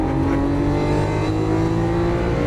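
A Lamborghini Aventador LP700-4 accelerates on the Las Vegas Motor Speedway track, its engine note droning steadily and rising slightly in pitch, loud and close, with no talk over it.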